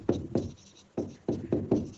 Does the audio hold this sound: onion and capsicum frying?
no